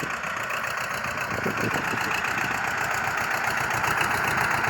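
A tractor engine runs steadily on a farm, a loud, continuous mid-pitched chugging that stays close and constant with no talk over it.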